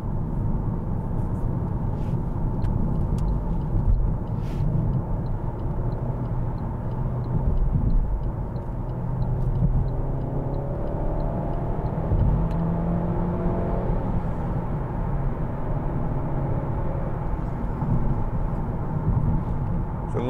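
Inside a 2013 Alfa Romeo Giulietta 1.4 TB MultiAir Sportiva on the move, the engine gives a steady hum under road and tyre noise, with gentle rises in pitch as it pulls. There is no talking.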